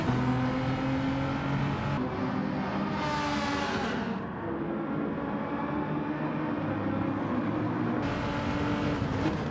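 All-wheel-drive race car in Gran Turismo 7 with a steady, loud engine drone that holds through the whole stretch, rising in pitch briefly as it revs, with no voices over it.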